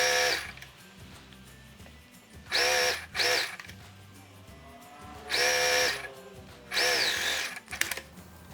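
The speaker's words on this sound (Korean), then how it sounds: "그리고 시접은 오버룩으로 정리를 해줍니다." An overlock serger finishes the seam allowances on children's summer pajamas sewn from rayon fabric, running in several short bursts of high, whirring stitching with quiet gaps between them.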